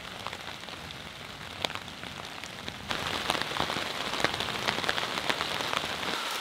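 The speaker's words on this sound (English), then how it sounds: "it's downpouring. The rain's not gonna stop us." Heavy rain pours steadily onto a hard surface, a dense hiss of drops that grows louder partway through and keeps on without pause.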